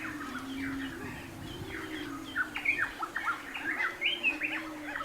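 Many birds call and chirp in Australian tropical mangroves, a busy chorus of short squawks and tweets over a steady low drone, growing livelier in the second half.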